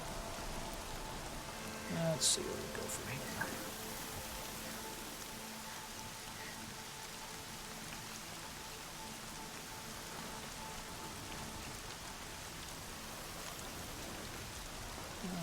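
Heavy rain in Horizon Zero Dawn, a steady dense hiss of downpour lasting throughout at moderate level, with someone speaking briefly over it.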